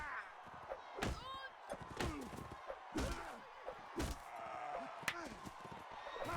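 Repeated heavy two-handed weapon swings and chopping hits in Mount and Blade Warband during a village raid, sharp thuds and slams landing every second or so amid battle noise, with a voice talking over them.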